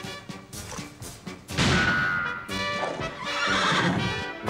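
Cartoon horse neighing and whinnying over galloping clip-clop hoofbeats, loud and close, with thuds in a French animated Western horse race.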